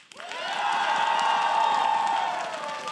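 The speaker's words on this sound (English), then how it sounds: "It's pretty loud applause" A live esports studio crowd at a League of Legends broadcast claps and cheers loudly, the noise swelling quickly and holding steady for a few seconds before easing slightly.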